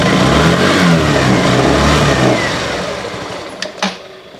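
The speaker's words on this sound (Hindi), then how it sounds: "अब हम जूम 110 का साउंड सुन लेते हैं एक बार।" A Hero Xoom 110cc scooter engine starts and runs loud and steady with a rough mid-range drone, then dies down and fades, followed by a couple of faint clicks.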